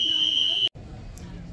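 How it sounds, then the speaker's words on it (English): An airport fire alarm blares a loud, steady high-pitched electronic tone that cuts off abruptly, leaving a background of indistinct crowd noise in the terminal. "Fire alarm at the airport"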